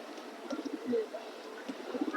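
Pigeons coo softly at a breeder's loft, with several low, throaty calls overlapping in short bursts over a faint background hum; no speech.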